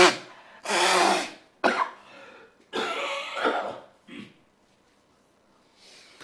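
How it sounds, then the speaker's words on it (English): Several loud, breathy bursts of nose blowing and snorting, spaced irregularly with short pauses between, close to the microphone. "I got to blow my nose for this one"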